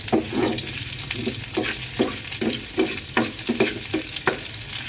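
Garlic and onion sautéing in oil in a pan, a steady close sizzle with regular scraping stirs of a utensil roughly twice a second, no talk.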